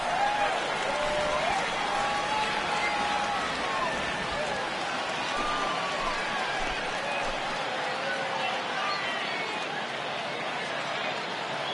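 Stadium crowd noise in the baseball video game MLB The Show 20, a steady roar of clapping and cheering as fans rise for a full count, continuous and fairly subdued, with commentary voices over it.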